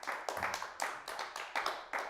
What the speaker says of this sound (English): So big round of applause for Alex.